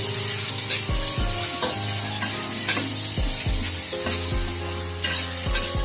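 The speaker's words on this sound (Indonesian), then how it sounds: "Masukkan semuanya, kemudian diaduk, dimasak sampai matang." Pensi clams stirred and cooked in a pan for a Bukittinggi dish, giving a steady close sizzle with repeated scraping stir strokes throughout.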